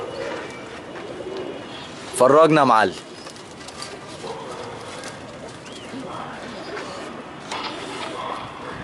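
Pigeons in a loft give a short burst of loud, warbling cooing close up, then the scene settles into a quieter bed of soft rustling and faint bird sounds while someone talks.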